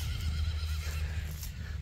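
A young horse whinnies loudly and close by, one sustained neigh with a wavering tremolo that fills most of the moment over low rumbling background noise, with no talking.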